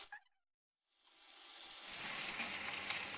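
Paneer pieces hit hot oil over medium heat, and after a brief quiet a steady crackling sizzle rises and holds, fairly soft and close, with no voices.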